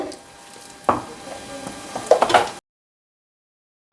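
Thick amla gulkand mixture with honey stirred by spoon in a container, a close wet squishing and scraping for a few seconds with a couple of louder clinks before stopping abruptly.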